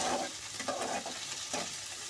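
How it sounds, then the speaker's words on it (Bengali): Chopped tomato sizzles softly in a pan while being stirred, faint scraping strokes recurring over a steady low fry, with no talking. "দিয়ে একটু নাড়াচাড়া করে নেব।"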